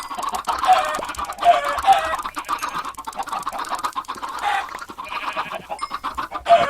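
Baby chickens cluck in a Minecraft game in a rapid, repeated chorus of clucks with short chirps mixed in. The sound is moderately loud and carries on throughout.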